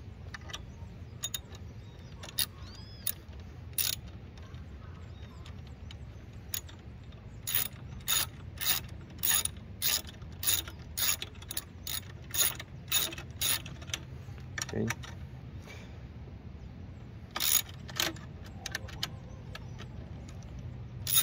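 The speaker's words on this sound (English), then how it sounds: "now we need to remove the battery cover lock. For that we're going to use again our 10mm socket wrench." A 10mm socket wrench ratchets in quick runs of sharp clicks while removing a battery cover lock on a seat structure, the bursts coming close and fairly quiet against a low background hum.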